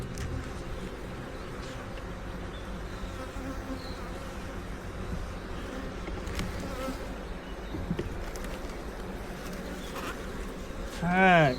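Honeybees drone in a steady, close buzz during a beehive inspection, with a brief louder rustle near the end.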